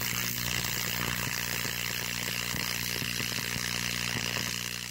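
Electric carbon arc burning between a pair of carbon electrodes set inside a drilled fire brick furnace, producing a steady loud buzzing drone with a low hum and crackling texture throughout.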